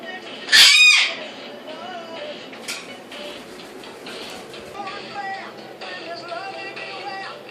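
A cockatoo lets out a loud, piercing squawk near the start during play, then softer chirps and scuffling sounds follow close by, with a person's voice faintly mixed in.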